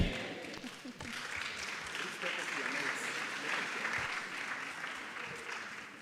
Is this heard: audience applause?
yes